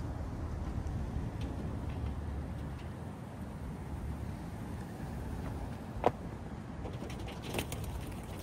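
Racing pigeons coo softly at a loft early in the morning before a 4-mile training toss, low murmuring calls over steady background noise with a sharp click partway through.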